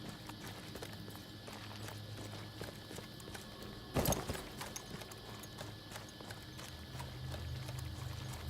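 Horse hooves clip-clop steadily in Battlefield 1, a continuous walking rhythm under low ambient game noise, with a brief louder thump midway and no talking.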